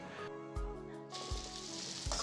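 Onions frying in a pan while meat for karela gosht waits nearby, giving a steady sizzle with a few brief louder bursts, close and without talk.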